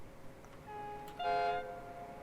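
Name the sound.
LNER Azuma train passing through tunnel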